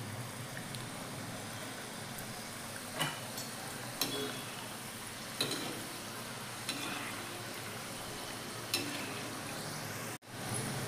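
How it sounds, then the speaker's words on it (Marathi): Wheat flour kapnya snacks deep frying in hot oil, giving a steady close sizzle and bubbling with a few soft clinks and stirring knocks, no talk heard. "चला तर आता तळून घेऊया. तेल तापलेलं आहे, तळून घेऊया आता."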